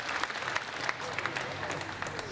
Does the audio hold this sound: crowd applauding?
yes